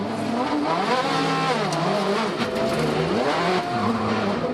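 A race car in the Supercar Challenge at the Zolder chicane enters too fast on cold rear tyres and loses grip, its engine loud and close with shifting revs, tyres squealing and skidding throughout.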